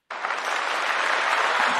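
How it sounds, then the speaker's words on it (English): Short burst of clapping from a small audience, starting abruptly and holding steady, fairly close and alone. "I was like, girl, where's my clap?"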